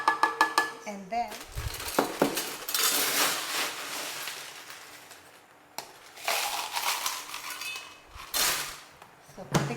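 A spoon stirs milk and syrup latte mix in a cup, with clinking, scraping strokes against the sides in uneven bursts and short pauses, close and fairly quiet.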